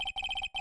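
A phone ringtone from the Phoenix Wright Ace Attorney game: a bright, fast electronic trill in quick repeated pulses, broken by two short gaps, clear with no voices.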